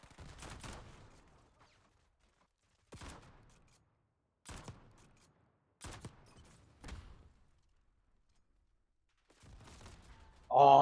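Marksman rifle fire in a first-person shooter game: four or five separate sharp reports spaced a second or two apart, each with a short echoing tail, over near silence.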